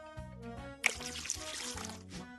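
Water poured from a cup into a bowl of dissolved gelatin powder and sugar for a gelatin salad, a short close trickling pour over light background music.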